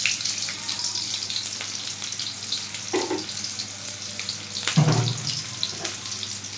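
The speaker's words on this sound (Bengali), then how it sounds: "তারপর হচ্ছে একটু পেঁয়াজ দিয়ে দিচ্ছি, পেঁয়াজটাকে একটু লাল লাল করে ভেজে নেব।" Onions frying in oil for a samosa filling sizzle close by in a pan, with scattered scraping and clattering stir noises and a louder clunk partway through, no talking.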